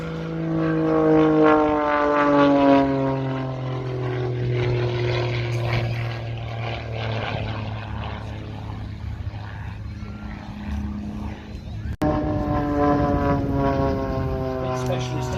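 Pitts Special aerobatic propeller biplane performing at an air festival display, a loud droning engine whose pitch sweeps and shifts with Doppler-like glides as it passes, with a sudden louder surge near the end.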